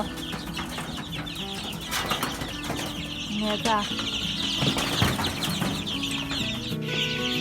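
Three-week-old black-tailed Pradu chickens cluck and chirp nearby in a busy flock, while someone speaks briefly in Thai over them.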